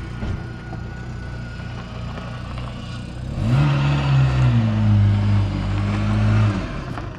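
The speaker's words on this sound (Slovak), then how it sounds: "Poďme sa previesť túto po Nitre, aby sme si započúvali teda ten zvuk, že ako to vlastne znie to auto G60." VW Golf II G60 Rallye engine on the move around town, a steady droning hum that swells as the car accelerates, rising into a stronger, rougher tone for a few seconds before settling.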